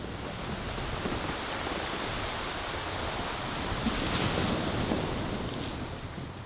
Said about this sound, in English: the sound of the waves coming in